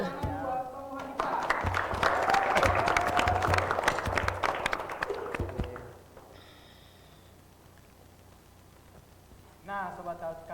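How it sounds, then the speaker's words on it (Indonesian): An audience applauds for a film guest on a cultural talk show, a burst of clapping lasting several seconds after a brief voice, then dying away into quiet before a host starts talking again. "Jangan lupa Tepuk tangan buat Bang Mohandika."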